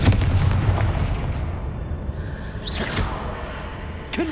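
Fiery Confringo blast spell cast in the video game Hogwarts Legacy: a booming, artillery-like burst with whooshing impacts, loud and close, followed by a second sharp hit near the end.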